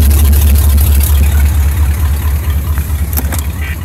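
A Chevy pickup truck engine idles loud and close with a deep, steady rumble, fading slightly toward the end as a faint voice sounds briefly.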